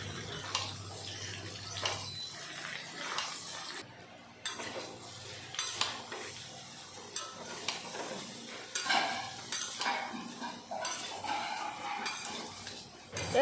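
Potatoes with boiled jackfruit frying and being stirred in a pan, a soft sizzle broken by repeated scraping and stirring strokes, fairly quiet and close.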